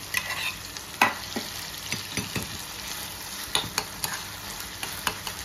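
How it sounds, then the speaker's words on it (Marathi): Food sautéing in oil in a pan for a Kelwan-style non-veg dish, with a steady sizzle broken by repeated sharp scrapes and knocks of a spatula stirring, close and moderately loud, no talk. "आणि आता याला छान परतवून घेऊया."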